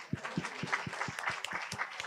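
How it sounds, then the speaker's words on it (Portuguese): Applause from a lecture audience, a scattered few claps repeating at a fairly regular pace, moderately faint, with a light murmur of voices underneath. "Vamos fazer aqui uma salva de palmas?"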